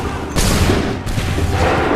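Musket volleys in the video game Assassin's Creed III, two loud booming bursts of massed gunfire about two-thirds of a second apart, each trailing into a rumbling crackle that fills the short stretch.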